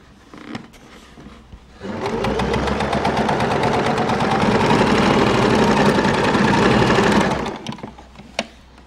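A sewing machine stitches fabric in one steady, loud run of rapid mechanical whirring lasting about five seconds, with quiet handling clicks before and after.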